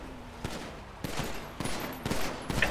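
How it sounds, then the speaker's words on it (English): Gunfire in a video game, with someone shooting at the players: a fusillade of muffled shots in several quick bursts, fairly faint and distant beneath steady background noise. "Someone shooting us."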